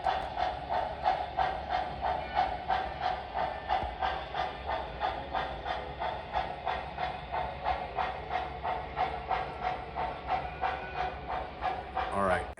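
A model steam locomotive puffs and hisses in a steady, rapid chuffing rhythm that runs the whole time, with a faint whistle-like hiss over it and a short burst of steam at the very end.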